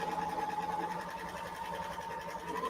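A serger stitches fabric around a circular seam, its steady motor hum and needle chatter running continuously and close.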